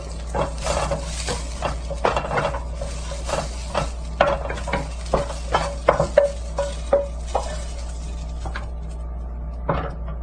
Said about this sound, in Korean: 다음 오이 볶겠습니다.